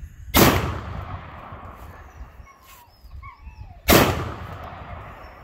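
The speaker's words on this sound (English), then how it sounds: "gonna try to shoot my shotgun" Two loud, close shotgun blasts ring out at an outdoor shooting range, several seconds apart. Each booming report fades into a reverberant tail, and faint bird calls can be heard between the shots.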